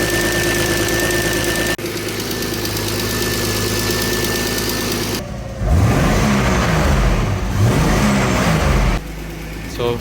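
Turbocharged BMW E36 engine idling roughly with a low rumble, then revved up and down twice near the end, loud and close with no talk.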